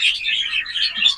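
A tiny chick with splayed legs gives a run of high, thin chirps, close and clear, repeating rapidly with short gaps.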